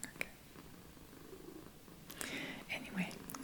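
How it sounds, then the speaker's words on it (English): A cat named Maddy purrs softly on someone's lap, a faint low continuous rumble under quiet whispered talk and a few small rustles. "so Maddy is on my lap now, and she's purring."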